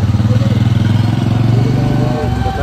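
A motorcycle engine, likely a Bullet, runs just after a service at night, with a loud, steady, close thump that dips briefly near the end and people talking over it.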